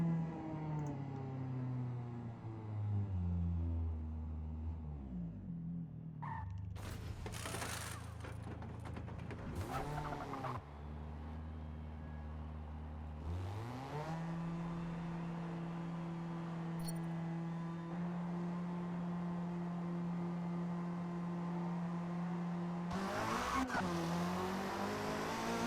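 A 2021 Hyundai Elantra touring car lapping Brands Hatch in the Forza Motorsport racing game, its engine rising and falling through repeated upshifts and downshifts, with loud bursts of revving and tire noise close up.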